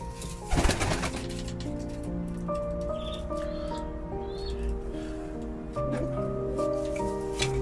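Domestic flying pigeons coo in a loft coop, soft repeated coos over a steady background of bird sounds with one louder flutter near the start.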